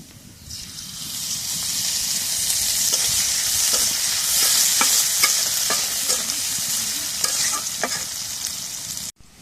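Chilies frying in hot oil for a napa greens dish give a steady, loud sizzle with crackling pops and occasional stirring scrapes, close up and continuous, cutting off sharply at the end.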